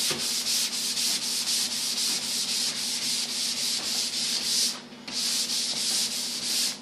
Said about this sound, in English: You want to float that sander over the top.